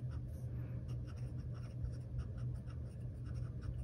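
Medium-nib Esterbrook Estie fountain pen inked with Pilot Iroshizuku Tsukiyo writing on paper: a steady, faint scratching of strokes running throughout, close and quiet over a low background hum, with no talk.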